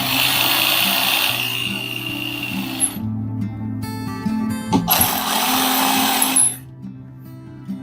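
Power screwdriver whirring in bursts as screws are driven into an electrical receptacle, two loud sustained runs of motor noise with a short pause between them and mechanical clatter near the end.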